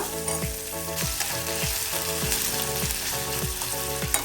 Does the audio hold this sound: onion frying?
yes